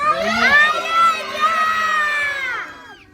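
At a children's puppet theater show, a crowd of kids shouts together in one loud, sustained call lasting a few seconds before it trails off.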